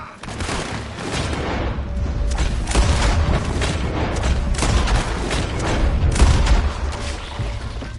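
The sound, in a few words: gunfire volley in a video game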